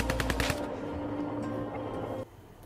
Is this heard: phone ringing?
no